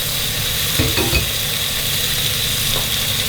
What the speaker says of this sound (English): Once your ginger garlic's fried, we're going to add the meat.